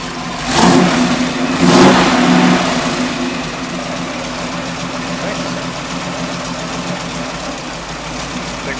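A 1978 Dodge Warlock engine, its carburetor a focus of work, revs in two quick throttle blips, then settles into a steady, loud idle close by.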